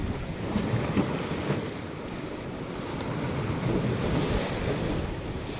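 Strong rushing water and waves wash over a rocky shore, a continuous surging roar with wind buffeting the microphone, steady and fairly close with no voices.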